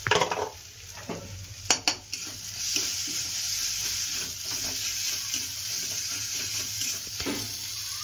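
Spiced onion masala for a shrimp and pointed gourd curry stirred and sautéed in a pan, with a steady sizzle, a few sharp metal scrapes and clinks early on, then continued frying.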